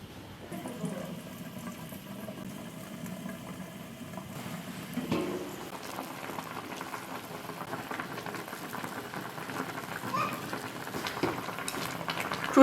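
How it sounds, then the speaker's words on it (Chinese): Pork trotters in a covered pot with dark and light soy sauce and baijiu, simmering on low heat, a soft steady bubbling and faint sizzle, quiet and continuous with a few light clinks and no talk. "盖上锅盖，小火慢炖1个半小时"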